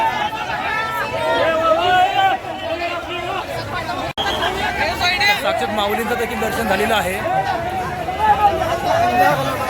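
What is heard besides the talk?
large crowd of Warkari pilgrims at the Palkhi procession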